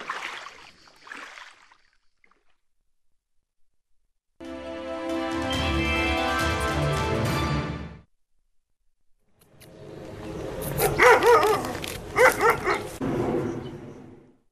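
Stray street dogs in Turkey barking, a loud, close burst of repeated barks and yips that stops, then another excited run of overlapping barks and whimpers.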